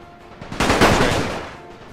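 Video-game battle gunfire along a front line, with a dense, roaring burst of overlapping rifle and machine-gun shots that swells suddenly and then slowly fades.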